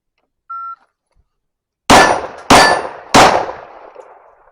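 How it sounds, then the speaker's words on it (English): A 1911 pistol fitted with a triple-port compensator fires three loud, sharp shots in quick succession, each with a short ringing decay, preceded by a brief electronic beep. "let's do another mag here with the triple port"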